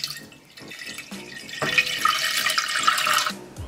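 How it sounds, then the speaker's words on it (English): Water pours into a pot for a Filipino fresh lumpia sauce, a splashing, running stream that starts faint and grows fuller and louder before cutting off. "She's adding the water."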